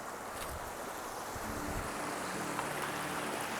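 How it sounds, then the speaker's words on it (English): Steady, close rush of cool river water flowing beside a hiking path on Mount Olympus, a broadband wash with some wind buffeting the microphone, no voices. "Yeah, the river's nice and cool here."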